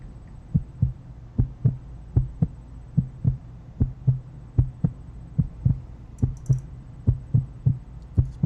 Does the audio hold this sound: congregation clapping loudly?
no